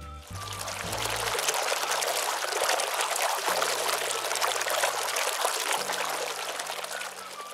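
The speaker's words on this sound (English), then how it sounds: "I think we could turn the water back on now" Tap water runs steadily into a bubble bath, a continuous splashing pour with a faint low hum beneath it, no talking.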